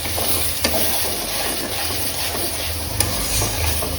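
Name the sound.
meat cooking in a pot, sizzling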